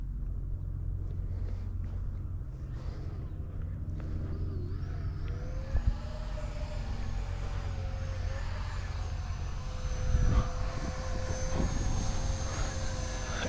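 A Freewing F-35 RC jet with afterburner flying low and inverted, its ducted-fan engine giving a steady, rising whine over a rumbling roar as it passes, with wind buffeting near the microphone.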